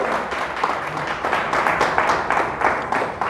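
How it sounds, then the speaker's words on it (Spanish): A church congregation claps loudly and steadily at a Spanish-language service, a dense wash of applause lasting the whole stretch with faint voices mixed in. "Le damos un fuerte aplauso a Dios."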